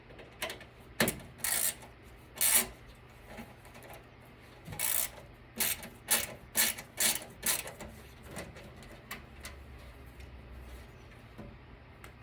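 Torx 10 screws are backed out of an HP desktop PC case with a screwdriver, a series of short ratcheting, whirring bursts at close range with brief pauses between turns, steady and mechanical.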